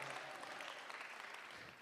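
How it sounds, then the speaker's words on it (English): A crowd claps steadily throughout a poetry reading, a dense wash of applause from a room full of people. "We can clap for that."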